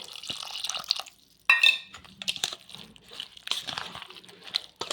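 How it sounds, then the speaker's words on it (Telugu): Water splashes and drips into a bowl of wheat rava batter with baking soda, followed by wet scraping and clinking as the mixture is stirred, close and moderately loud. "ఇప్పుడు కొంచెం నీళ్ళు వేసుకొని మరీ కలుపుకోవాలి"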